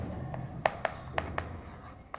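Marker or chalk strokes on a board during a physics lesson, several short scratchy taps and strokes spaced irregularly, close and moderately clear over a low room hum, with no talking.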